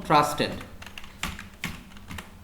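Computer keyboard typing while building a WordPress site: a few scattered key clicks and a firmer Enter press after a brief burst of speech, close and moderately quiet.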